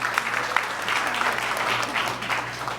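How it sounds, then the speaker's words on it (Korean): A church congregation applauds with dense, steady clapping from many hands, close and even throughout the short burst. "우리 박수로 축복하겠습니다."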